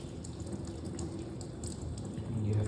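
Water runs steadily from a kitchen faucet during rinsing, a faint, continuous splash and hiss that swells slightly near the end.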